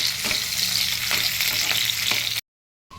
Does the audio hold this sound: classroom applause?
no